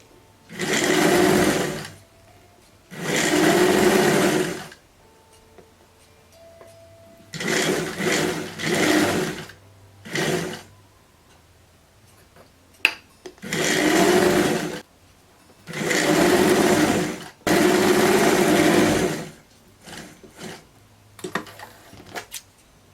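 A sewing machine stitching a kimono blouse runs in several separate bursts, each a few seconds long, with a fast mechanical whir. Brief pauses and soft handling noises fall between the runs, heard up close with no talk.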